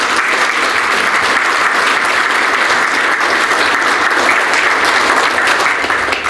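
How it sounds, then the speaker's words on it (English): Loud, sustained applause fills a hall at a sports hall of fame luncheon and induction ceremony, with a dense crowd clapping steadily for the whole stretch and no speech over it. "Ladies and gentlemen, let's give them all a big round of applause."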